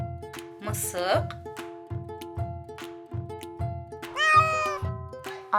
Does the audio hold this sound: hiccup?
no